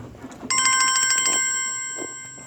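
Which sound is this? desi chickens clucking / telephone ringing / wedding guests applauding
telephone ringing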